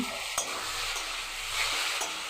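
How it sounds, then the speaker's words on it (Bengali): Boiled potatoes stir-fried with spices in a pan give a continuous sizzle broken by occasional scraping stirs, with no talking. "এইভাবে মশলার সাথে সেদ্ধ আলুটাকে নাড়াচাড়া করে একটু কষিয়ে নিচ্ছি"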